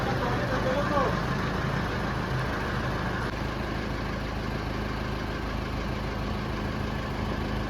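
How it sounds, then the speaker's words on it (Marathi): A tractor engine runs steadily while lifting sheesham wood logs onto a cutting machine at a timber yard, a continuous mid-pitched drone lasting throughout with people talking over it. "असे लाकूड ट्रॅक्टरनं उचलतात आणि त्या मशीनवर ठेवतात बघा"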